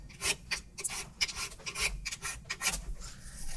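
A file rasps back and forth across the ends of a wooden guitar neck on a 1994 Guild JF4-12, rounding them over in quick, close, rhythmic strokes with short pauses between.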